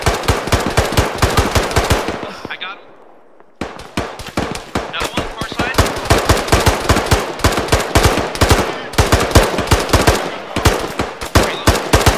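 Machine gun fire in Arma 3 in long, loud, rapid bursts of close shots, broken by a brief pause near three seconds before the firing resumes and continues steadily to the end.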